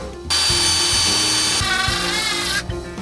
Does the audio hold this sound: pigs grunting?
no